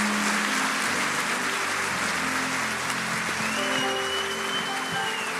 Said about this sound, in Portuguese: Você pode dizer amém e aplaudir o Senhor?